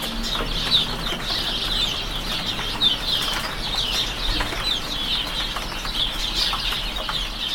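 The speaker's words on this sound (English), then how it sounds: "And if you get lots of sparrows all chattering at once," A flock of house sparrows chattering all at once, a dense, continuous mass of overlapping chirps at moderate volume with no pauses and no voices.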